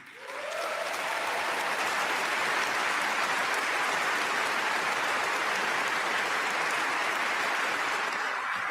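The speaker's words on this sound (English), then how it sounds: "after warm applause" Audience applause in the hall at the Nobel Peace Prize ceremony, a dense, steady roar of many hands that swells in within the first second and holds loud and even throughout, with no talk over it.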